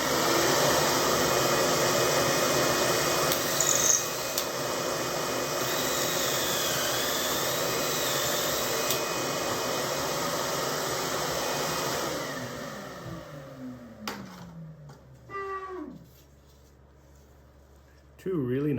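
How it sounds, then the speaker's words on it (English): A loud, steady vacuum whine in a woodworking shop after drilling pocket holes runs for most of the stretch, then cuts off near the end, leaving quieter handling noises and a brief burst. "Let's turn the vacuum on."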